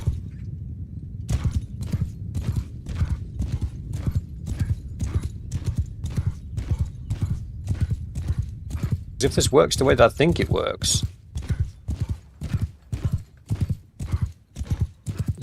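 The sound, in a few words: horse hooves galloping, from video game Mount & Blade 2 Bannerlord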